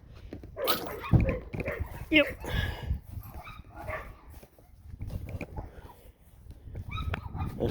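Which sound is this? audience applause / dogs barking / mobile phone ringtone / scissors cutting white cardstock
dogs barking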